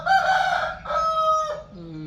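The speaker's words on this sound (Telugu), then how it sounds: "మా కోడిపుంజు గుడ్ మార్నింగ్ చెప్తుంది" A rooster crows loudly and close by in one long drawn-out call with several rising and falling parts, standing alone without talk.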